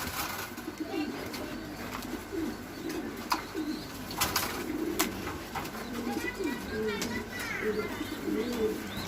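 Racing pigeons coo in soft, repeated low murmurs close by, with occasional chirps and faint background voices.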